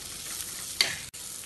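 Curry ingredients are stirred and sautéed with asafoetida in a pan for a Malayalam-style chundakka theeyal. A steady, soft sizzle runs throughout, with one brief scraping stir in the middle before a short break.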